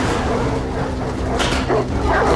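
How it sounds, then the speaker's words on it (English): Dogs let loose in an episode of The Last of Us, barking and whimpering amid a dense, noisy soundtrack over a steady low hum, with a few sharper yelps near the end. "Oh, dogs. Letting the dogs out."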